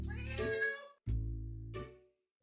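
Cartoon cats give two drawn-out, loud meows close up, separated by a brief pause, with the start of a third at the end.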